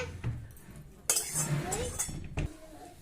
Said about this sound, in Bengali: তো ঘন্টার জন্য আমি প্রথমে কড়াইটা বসিয়ে দেব